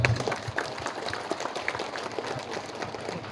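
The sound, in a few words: applause for the market traders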